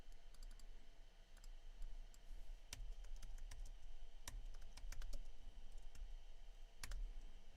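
Rapid keystrokes on a computer keyboard, typing a café name into a search field, with irregular bursts of clicks and occasional louder taps over a low steady background hum.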